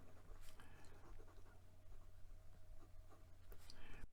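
A Pilot Custom 74 fountain pen nib moves across paper in faint, soft strokes, with a light continuous scratch close by in a quiet room.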